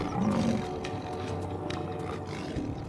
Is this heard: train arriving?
no